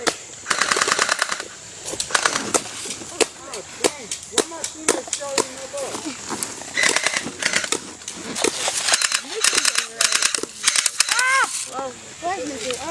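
Rapid bursts of airsoft gunfire during an outdoor airsoft war game, sharp repeated cracks coming in clusters across the clip, with shouting and talk from players mixed in throughout.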